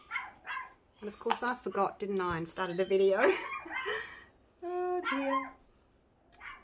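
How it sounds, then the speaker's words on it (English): Dogs bark in short repeated bursts at a home, mixed with someone talking over the noise. "And of course the dogs are barking."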